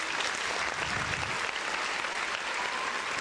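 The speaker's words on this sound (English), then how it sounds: "get that man another round of applause" A crowd gives a round of applause for a standout 49ers player, a dense continuous burst of clapping that holds steady and fairly loud for the whole stretch.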